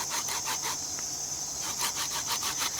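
Hand saw cutting straight down the grain of wood in rapid, even back-and-forth strokes, a raspy rhythmic scraping close by with a brief pause midway.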